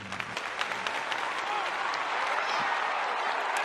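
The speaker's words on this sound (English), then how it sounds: "Give him a big round of applause" Applause from a crowd at an evening record show, dense steady clapping that swells and holds throughout, with some voices mixed in.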